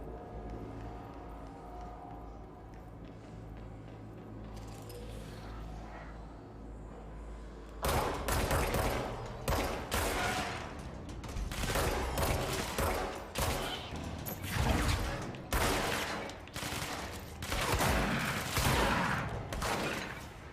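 An enemy fires a shotgun in the video game Control. A quiet stretch breaks into a rapid string of loud, punchy blasts, with repeated shots close together over a rumbling bed.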